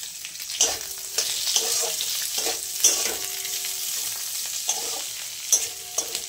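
Diced capsicum stirred through spices in a pan, with a steady bright sizzle cut by repeated scraping strokes of a spatula spaced a second or so apart, close and moderately loud, no talking.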